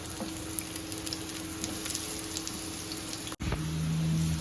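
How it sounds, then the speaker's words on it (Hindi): Steady, dense sizzling of sliced onions frying in hot oil, crackling throughout, with a brief cut and a low hum near the end. "मुझे इसमें जो है प्याज का तड़का बनाना है।"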